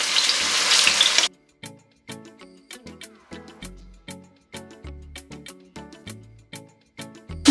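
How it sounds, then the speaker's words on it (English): Chicken pieces frying in a pan for Ugandan-style cabbage stew, a loud broadband sizzle in the first second, then a run of sharp clinks and taps like utensils turning the meat, with no talk. "So I'm going to fry this chicken until it's golden brown on both sides of the chicken."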